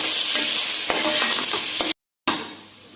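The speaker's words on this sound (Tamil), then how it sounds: "இப்போ கேப்சிகம் சேர்த்துக்கலாம். சேர்த்து கொஞ்சம் நல்லா ஃப்ரை பண்ணிக்கலாம்" Capsicum frying in a pan for veg pulao, a loud, dense hiss of hot oil with a few light spoon taps, cut by a brief dropout before the sizzle resumes.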